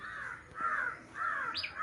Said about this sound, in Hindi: कौवा काँव काँव करते हुए लीली और लीलू से कहता है